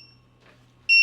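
A shrill high-pitched low-voltage alarm beep from a Leaptrend 3000W pure sine wave power inverter suddenly starts near 10.3 volts and holds steady at full volume over a low hum, after a faint earlier tone fades.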